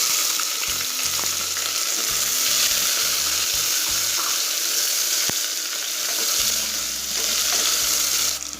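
Thinly sliced small onions fry in hot oil for kuska plain biryani, a steady loud sizzle close up with occasional stirring scrapes and clinks, and no talking.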